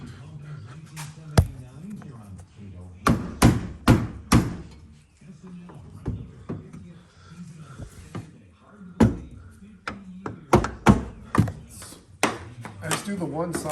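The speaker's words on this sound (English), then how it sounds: "And then I just take backside of my hammer and just give it a little push." Hammer taps on trim clips of a Ford Country Squire wagon, a series of sharp knocks and thunks in irregular bursts, with quiet talk between the hits.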